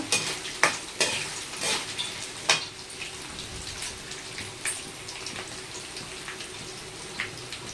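Ingredients fry in a pan until they turn reddish, a steady sizzle broken by several sharp stirring scrapes and spatters, close and fairly loud, with no voices.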